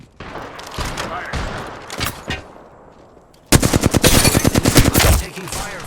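Loud bursts of automatic gunfire in a battle royale shooter video game, a rapid rattling volley dominating the second half after quieter scattered shots and game sounds.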